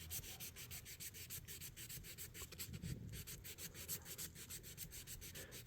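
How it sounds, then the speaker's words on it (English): Sandpaper rubbed in steady horizontal strokes across an old orange knife blade, a rapid, even scratching rhythm of close rasping passes with no talking. "it's a little stronger of a sandpaper than the 600, so we'll use it just a tad bit longer"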